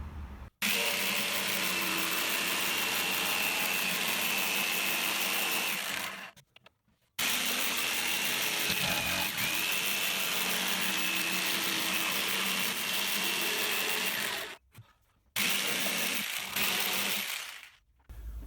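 A jigsaw cutting wooden carcass braces for a kitchen worktop in a Mercedes Sprinter camper van build, loud buzzing runs of several seconds each, broken by brief silent pauses between cuts.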